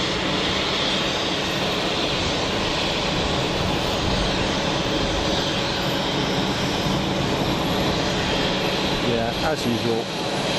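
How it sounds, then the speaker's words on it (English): KLM Embraer jet arriving from Amsterdam at Geneva Airport, a steady broadband roar and hiss of engines that holds throughout, with a person briefly talking near the end. "super tidy Embraer of KLM in from Amsterdam"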